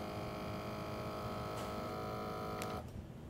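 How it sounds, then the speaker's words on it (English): A vacuum sealer runs on a bag of garlic with a steady electric motor hum that holds evenly at close range, then cuts off abruptly near the end with a brief click as the seal finishes, with no voices present. "we're just going to do a nice little light vacuum"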